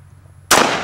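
.45 ACP +P Federal Hydra-Shok round fired into a Level II armor vest: after a low quiet lead-in, a single loud, sharp gunshot cracks close by and then rings out in a short decaying tail.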